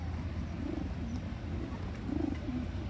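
Pigeons coo softly and repeatedly while being fed, low throaty calls rising twice over a steady rumbling background.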